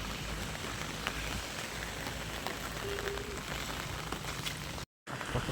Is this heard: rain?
yes